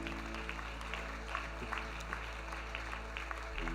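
Faint, steady applause from a church audience for the worship band during a miracle evening service, heard as a low, even patter over a constant background hum.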